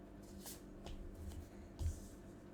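Tarot cards being shuffled and drawn by hand, with soft papery riffling and brushing that swells near the end into a firmer slap, close and quiet, with no voices.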